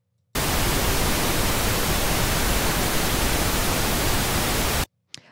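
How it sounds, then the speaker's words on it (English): A steady wash of broadband pink noise starts abruptly, holds at a constant level for several seconds, then cuts off. "So this is my pink noise."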